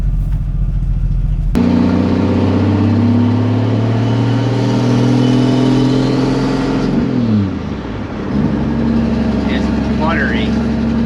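A turbocharged six-cylinder car engine on a new clutch revs loudly and steadily while driving, its note dropping sharply during a gear shift before climbing again, with occupants talking over the cabin noise.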